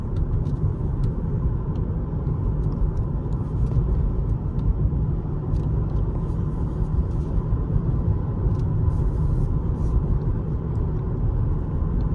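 Cabin of a 2019 Lexus ES300h hybrid sedan on the road: steady low tyre and road rumble with a soft engine hum, unbroken and even throughout, with no talking.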